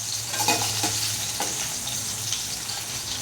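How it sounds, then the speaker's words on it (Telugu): Potatoes fry lightly in a pan of oil, giving a dense, even sizzle close up with soft stirring scrapes. "ఇలా కొంచెం లైట్గా ఫ్రై అయితే చాలండి"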